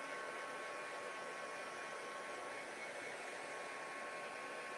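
A handheld heat tool blows a steady, even rushing whir while drying ink on card for card making, a constant airy hum with a faint whine that holds unchanged throughout, fairly quiet and without speech.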